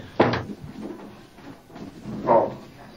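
A door opens or closes with two dull, close knocks a couple of seconds apart against a quiet room, with no talk.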